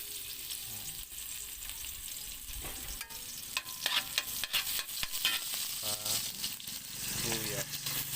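Garlic frying in a little oil for salmon-head sinigang, crackling and sizzling close by with scraping stirs and clinks from a utensil against the pan.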